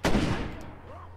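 A single gunshot from a firearm in the zombie survival video game State of Decay, a sharp loud crack that decays over about a second, with a faint low hum left underneath.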